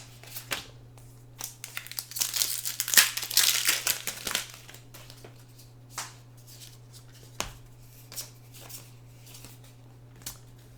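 Magic: The Gathering Core 2020 booster packs torn open and their foil wrappers crinkled, with a dense burst of crackling and crumpling early on, then sparser crinkles and snaps close to the mic over a steady low hum.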